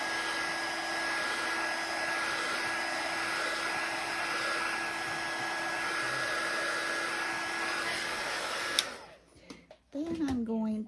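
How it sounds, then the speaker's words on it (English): A small heat embossing tool blows a steady, loud whirring stream of hot air to dry a craft mould, running continuously before clicking off abruptly, followed by faint handling noises. "This is my little heat embossing tool, and I just turn that on and make sure this is good and dry."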